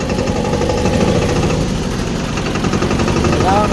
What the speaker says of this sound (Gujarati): તો મિત્રો આ છે ઓલ્ડ મોડલ ટ્રેક્ટર.